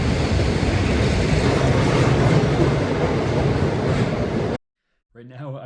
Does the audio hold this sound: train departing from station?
yes